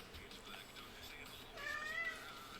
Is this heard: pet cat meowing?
yes